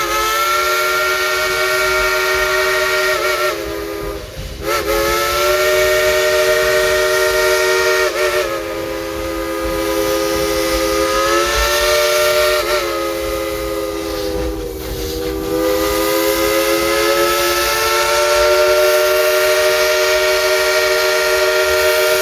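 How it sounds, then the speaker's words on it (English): A loud steam train whistle blows continuously with a few brief breaks on the Dollywood train ride, its chord-like tones wavering over a steady hiss. "tell the engineer to blow her whistle"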